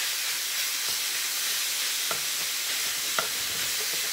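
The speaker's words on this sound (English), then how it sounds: "I love that sizzle." Ground beef sizzles steadily in a hot skillet without oil, a bright continuous hiss with a few soft clicks of stirring, close up and without talk.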